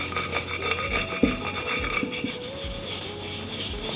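Brush or cloth rubbing green paint onto a piece of thrifted home decor, a continuous close scratchy scrubbing with small strokes and a sharp tap partway through, no speech.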